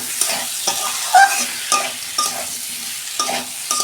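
Taro (kochu) is sautéed in a pan, with a soft sizzle under repeated spoon stirs and scrapes that come in irregular strokes, close and fairly loud without any speech.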